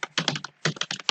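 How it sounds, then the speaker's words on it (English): A computer keyboard clatters through a quick keyboard shortcut while coding a Spring application, two bursts of several crisp, close keystrokes separated by a short pause. "Control-Shift-O on my keyboard"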